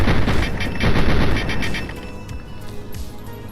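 Loud, dense gunfire in the video game Fallout 3 opens with rapid repeated shots, then thins into scattered quieter reports and clatter as the firing tails off.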